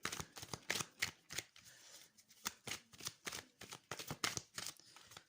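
Tarot cards being shuffled by hand, a steady series of crisp, papery riffles and slaps, close and fairly quiet, with a short pause midway and no talk.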